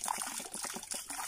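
Water still trickling and pouring from a waste pipe into a polluted stream near farm plots, a steady close liquid splashing with no talk.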